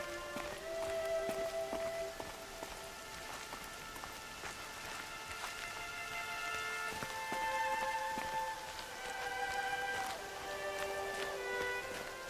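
Steady rain falls in the game Horizon Zero Dawn, with dense drops pattering on surfaces at an even, moderate loudness throughout and no voices.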